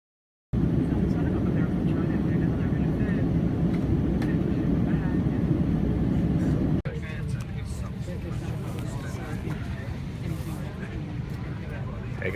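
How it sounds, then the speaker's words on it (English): Steady, loud engine drone inside an airplane cabin in flight, a dense low rumble that runs throughout and drops slightly in level partway through, with no clear talk over it. "We're in the plane here, going to UK"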